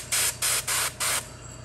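Short bursts of spray paint from an airbrush or can laying initial coats on a miniature figure, four even hissing blasts in a steady rhythm, close and loud, with a faint low hum underneath.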